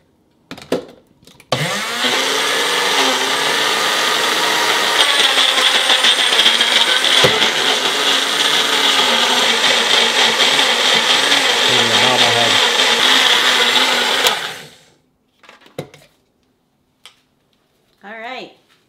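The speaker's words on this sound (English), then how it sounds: "We're using our magic bullet." Magic Bullet blender whirring protein brownie batter, a loud, steady grinding motor roar with a slight rattle lasting about thirteen seconds, cut off abruptly and followed by brief talk.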